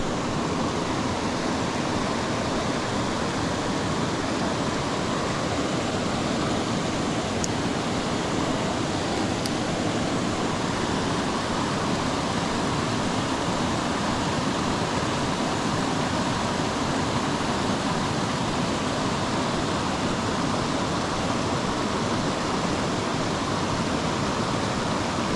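A creek waterfall pours in a constant, full-bodied rush of water, loud and unbroken for the whole stretch, with no voices above it.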